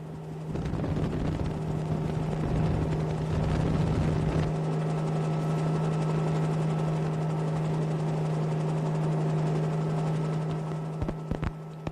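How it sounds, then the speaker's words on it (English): Military patrol helicopters set down near Crossmaglen, their rotors thudding loud and close at first, then settling into a steady droning whine that fades slightly at the end. "The patrol commander chooses a spot and his helicopters land as close as they can."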